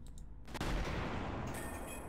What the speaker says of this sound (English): Let's load the first shell, and we're only gonna fire 2, of course, this time around.